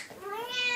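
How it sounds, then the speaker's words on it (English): A cat gives a single short meow, rising in pitch, fairly close and on its own without any talk. "Darn cat."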